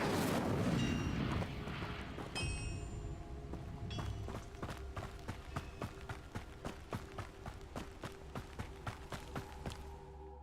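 Incendio fire spell cast in Hogwarts Legacy on PS5: a loud roaring burst with crackling that settles into a steady run of sharp rhythmic thumps and crackles, sustained and close.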